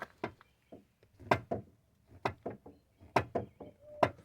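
Loose part inside a car door knocking as the door is moved, a series of quiet hollow clunks and rattling taps in uneven clusters, close by, with no talking.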